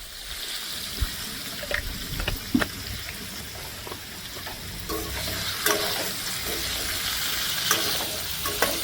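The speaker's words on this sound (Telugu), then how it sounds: "లైట్గా ఫ్రై చేసుకున్నామండి" Cauliflower curry frying and being stirred in a thin steel pan with a little chilli powder, a steady soft sizzle broken by occasional scraping clicks, close up and alone.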